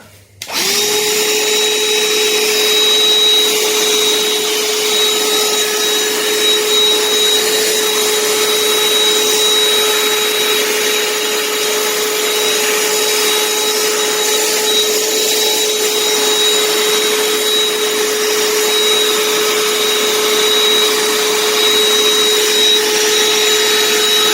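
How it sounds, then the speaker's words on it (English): A vacuum cleaner starts up and runs loudly and steadily with a constant high whine, close by, brushing over a model display shelf, with no talking. "we're going to give it a vacuum, so it's going to be noisy"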